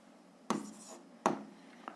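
A pen scratches on paper while someone works through a 7th-grade algebra exercise, making a few short, faint strokes at uneven intervals in a quiet room.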